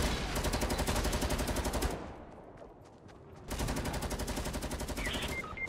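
Shotgun blasts in the video game Fortnite fire in a rapid, loud run, break off into a quieter gap for a moment, then resume as a second dense burst of shots.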